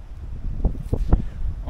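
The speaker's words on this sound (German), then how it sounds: "Es geht da ziemlich der Wind." Strong, cold wind buffeting the microphone at a winter bushcraft campfire, with low rumbling gusts and a few sharper bursts close by.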